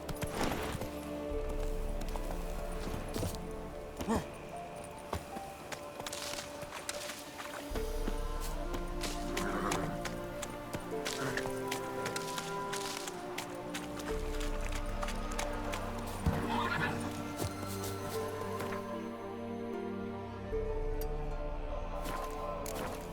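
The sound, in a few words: horse Roach galloping and neighing in Witcher 3 video game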